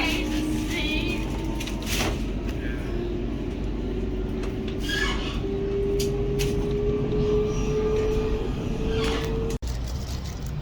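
Riding a Sydney double-decker train, with a steady interior rumble and rolling noise, a rising whine partway through and faint scattered background sounds, ending in an abrupt click.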